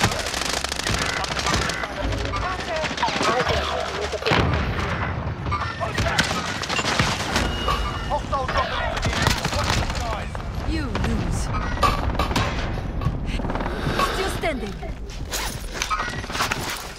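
Rapid covering gunfire in a shooter video game, dense bursts of automatic shots and booms packed throughout, with voices talking over the shooting.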